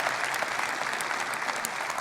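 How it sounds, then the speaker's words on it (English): Audience applause at a Vue.js conference talk in Amsterdam, a steady dense wash of clapping from a large crowd lasting the whole two seconds, with no voices. "definitely deserves a round of applause for sure"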